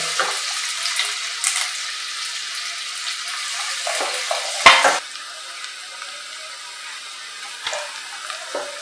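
Chopped onions sizzling in hot oil in a pan for a Bengali methi chicken, a steady close frying hiss with occasional crackles and one brief louder clatter midway.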